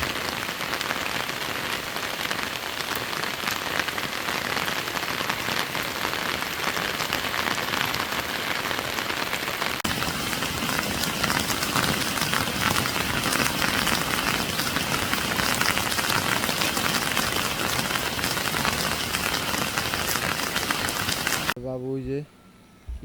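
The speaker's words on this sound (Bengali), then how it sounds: "আজকে বৃষ্টি নামছে।" Steady heavy rain in a Padma riverside village, a dense continuous patter on surfaces that goes on unbroken, close and loud, then cuts off at the end as a brief voice is heard.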